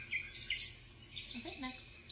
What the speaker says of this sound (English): Little bird action.